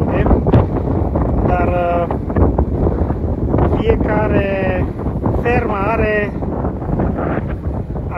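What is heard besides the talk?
wind blowing at a cow farm in Kansas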